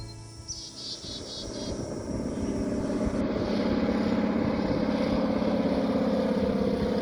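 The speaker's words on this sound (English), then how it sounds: "an easy day trip into Killarney sees a float plane taxi in for landing on Killarney Channel" A float plane's propeller engine drones steadily as it taxis in on Killarney Channel, swelling louder and nearer over several seconds while crickets chirp faintly in the background.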